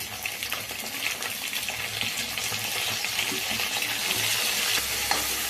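Tomatoes frying with chilies in a pan, a continuous close sizzle with frequent spatula stirring and scraping, growing slightly louder toward the end; no voices.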